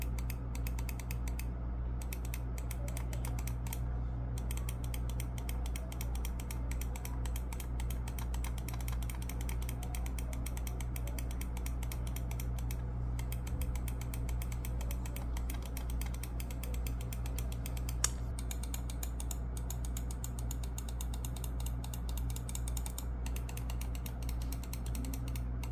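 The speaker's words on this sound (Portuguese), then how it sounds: "é um switch bem tático, ele é muito gostosinho de clicar, o som dele é bom" Mechanical clicking from VXE R1 Pro Max mouse switches, a dense steady run of small clicks and creaks over a constant low hum, close up with no talking.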